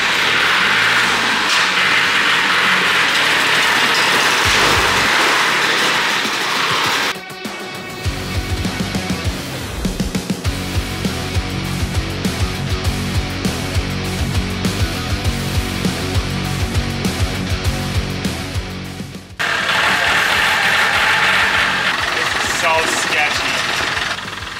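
Small tractor engine running while moving a heavy load in a workshop setting, a steady diesel-like chug with rhythmic knocking pulses that shift in tone midway, loud and close throughout.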